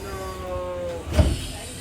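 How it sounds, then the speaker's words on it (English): A sustained tone hums before the doors of a train in Japan slide shut with a short, solid thud, followed by low rumbling. "Doors are closing."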